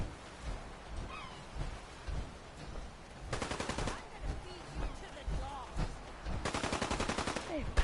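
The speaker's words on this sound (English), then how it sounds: "I guess I'll just follow the sound of gunfire." Bursts of rapid gunfire crackle in short volleys over a busy Fallout 4 game soundscape, with a couple of louder automatic bursts standing out.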